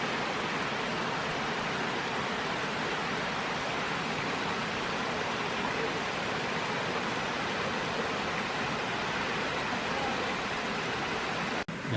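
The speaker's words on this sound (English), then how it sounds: "that is a nice little cascading waterfall" A small cascading waterfall on a creek in a Tennessee natural area gives off a continuous, even rushing hiss that holds steady from start to finish, with no voices over it.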